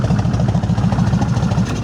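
Liquid-cooled 1600cc Kawasaki Vulcan 1600 Classic V-twin with a 5-speed idles close by, a loud, lumpy, rhythmic throb pulsing evenly throughout.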